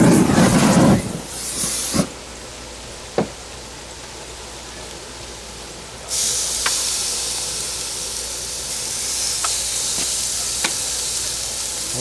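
Lamb shoulder chops sizzle on a grill at a campsite, a broad steady hiss that drops away briefly after a loud opening burst and then returns, with a few sharp clicks scattered through it and no talk.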